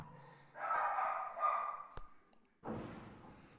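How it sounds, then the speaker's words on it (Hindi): Many dogs barking somewhere outside, faint and distant, in two muffled bursts with a sharp click between them, heard in a quiet room. "कुत्ते भौंक रहे हैं बहुत सारे, परेशान कर रहे हैं खाली।"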